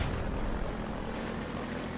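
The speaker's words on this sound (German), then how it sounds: "Natürlich kann ich jetzt hier mit dem Boot hier runter." An airboat driven in the video game Half-Life 2 gives a loud, continuous engine and propeller roar mixed with water rush, steady and close throughout with no talk.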